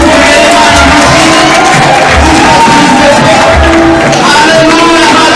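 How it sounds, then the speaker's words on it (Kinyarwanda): A church congregation at a jubilee celebration erupts in loud applause and cheering, a continuous roar of voices, shouts and clapping filling the whole space at high volume. "dukomere Imana amashyi."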